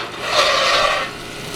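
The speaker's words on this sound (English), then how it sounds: "what he's doing is just kind of scraping around and like moving around all the bacon grease" A utensil scrapes bacon grease around a cooking pan in one steady, raspy scrape lasting about a second, close and fairly loud, with no talking.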